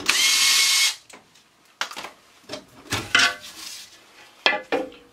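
A power drill runs briefly to back out the 3/8-inch bolts on a furnace housing, followed by scattered metallic clinks and tool handling, all close and without speech.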